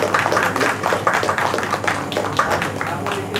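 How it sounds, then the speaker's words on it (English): An audience at a medical conference applauds: a dense run of scattered hand claps fills the room, steady and moderately loud throughout, with faint murmuring beneath. "Can we have a big round of applause?"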